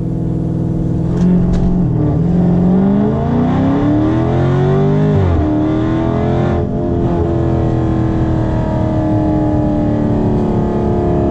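A Ford Mustang 5.0 or Dodge Charger Scat Pack launches hard from a launch-control start, its loud engine revving and rising in pitch through one gear change before it settles into a steady roar.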